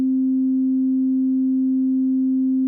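A steady sine wave test tone with faint harmonics from old analog gear, so it is not a perfect digital tone, holding continuously at one pitch for nearly three seconds without a break.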